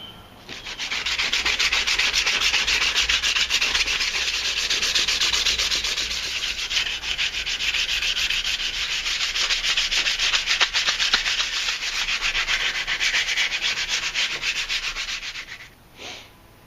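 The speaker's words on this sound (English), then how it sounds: "then we'll get the sandpaper out, sand it down real smooth" Sandpaper rubbed steadily over a homemade wooden handle, a continuous near, loud scratchy sanding that runs almost unbroken for about fifteen seconds before stopping.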